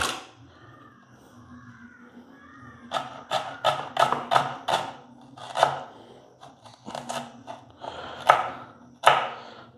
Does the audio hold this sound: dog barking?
no